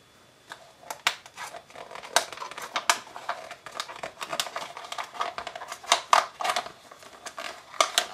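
An X-Acto blade cuts a silicone mold in close, faint scraping and snipping strokes, a run of irregular short clicks and rasps in a quiet room.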